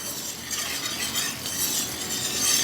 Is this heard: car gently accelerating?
no